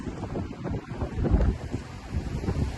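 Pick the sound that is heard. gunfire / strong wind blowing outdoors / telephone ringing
strong wind blowing outdoors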